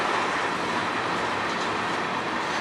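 Steady loud rumble of a train passing on a railway track in Sarnia, Ontario, a continuous close roar with faint rail clatter and no pauses.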